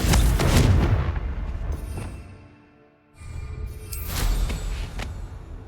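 A Confringo fire spell in Hogwarts Legacy on PS5 bursts as two loud, booming explosions, one at the start and one a few seconds later, with a brief quieter lull between them.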